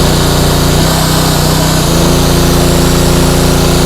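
A 2-in-1 generator with built-in welding machine runs loud and close, a steady engine drone with constant hum holding throughout, no other sounds breaking through.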